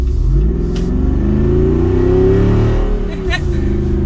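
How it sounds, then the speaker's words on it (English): A 2021 Jeep Wrangler 392 Rubicon V8 accelerating in normal mode, a loud close engine rising in pitch with a deep, throaty exhaust that falls back briefly near the end, as if shifting gear. "I want to give it another acceleration here."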